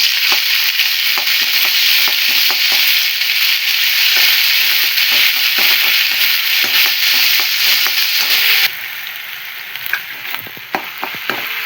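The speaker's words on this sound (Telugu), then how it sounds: "నెక్స్ట్ కొన్ని ఆవాలు, కొంచెం జీలకర్ర, 1 స్పూన్ అల్లం పేస్ట్ అయితే వేస్తున్నాము." Mustard seeds, cumin and ginger paste frying in a pan while cooking okra and peanut fry, a loud steady sizzle with crackling seed pops throughout, easing to a quieter sizzle near the end.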